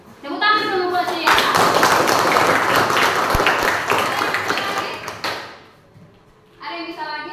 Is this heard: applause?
yes